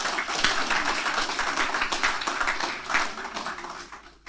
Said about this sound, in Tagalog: isang malakas na palakpak sa Diyos